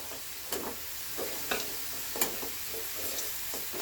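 Fried potatoes being lifted out of hot oil, with a steady sizzle broken by repeated scraping and clinking strokes of a utensil at irregular intervals, close and without talk.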